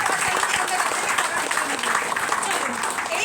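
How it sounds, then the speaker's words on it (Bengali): An audience applauds to welcome newcomers at a company presentation in an office, a steady wash of clapping from many hands sustained throughout, close and fairly loud. "হাততালি।"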